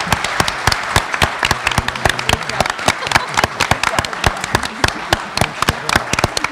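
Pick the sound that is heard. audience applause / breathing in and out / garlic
audience applause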